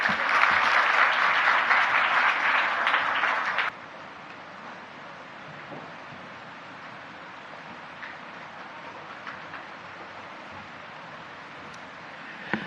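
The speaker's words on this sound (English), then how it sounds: "Let's give her a better clap." An audience at the Africa Climate Summit 2023 at KICC Nairobi applauds loudly for about four seconds, then the clapping cuts off abruptly, leaving quiet hall ambience with faint scattered sounds.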